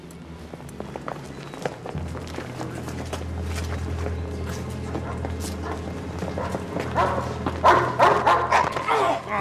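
A dog barks repeatedly and whimpers in a busy indoor scene, mixed with other noises and a low hum; the barks sit in the middle distance and grow louder toward the end.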